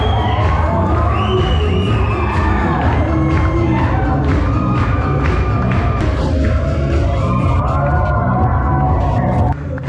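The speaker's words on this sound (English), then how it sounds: "Guests enthusiastically joined in, clapping, cheering, and encouraging them every step of the way." Wedding guests at a garden wedding reception cheer, shout and whoop loudly and continuously for ten seconds, a dense crowd din with lively music under it.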